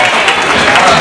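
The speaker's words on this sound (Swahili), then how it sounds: "Mpige makofi kwa urefu wake ambao tunamjali" Congregation at a Swahili church service applauding continuously, a dense, steady wash of clapping filling the room with no clear break.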